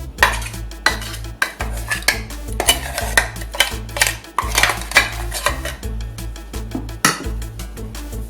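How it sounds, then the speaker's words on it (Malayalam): Chicken is mixed with a spice blend and salt for a Kerala-style fry, a spoon clanking and scraping against a metal bowl in a steady, repeated rhythm of loud, close knocks. "ഇനി ഇത് ചിക്കനിലേക്ക് ഇട്ട് ആവശ്യത്തിന് ഉപ്പും ചേർത്ത് നന്നായിട്ട് ഇളക്കി യോജിപ്പിക്കാം."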